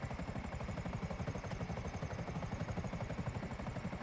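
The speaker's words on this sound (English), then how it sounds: "So we'll put the helicopter down here." Steady, throbbing rotor chop of a Buzzard attack helicopter hovering close by in GTA V, a continuous pulsing engine drone with no talking.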